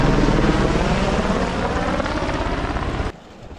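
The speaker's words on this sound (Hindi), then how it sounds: "फिलहाल देखो हेलीकॉप्टर" A helicopter flies along the Amarnath Yatra pilgrimage route, its loud, steady rotor and engine roar dominating for about three seconds before cutting off abruptly to quiet.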